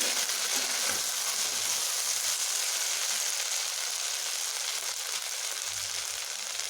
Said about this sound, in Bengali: ঢ্যাঁড়সগুলোকে আমি এইভাবে একটু ভালোভাবে ভেজে নিচ্ছি